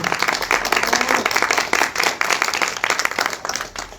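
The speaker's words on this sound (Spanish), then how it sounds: "les pido un fuerte aplauso" Sustained audience applause fills a museum talk event in honor of the director of the Museo Casa Dr. Mora, a steady dense wash of many hands clapping at close range throughout.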